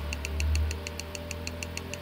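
A Lotus engine idles steadily at around 1400 rpm during live ECU tuning, with a low droning hum that swells briefly and then settles, plus a faint, regular ticking pulse running through it.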